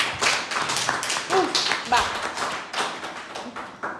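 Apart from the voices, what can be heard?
audience applause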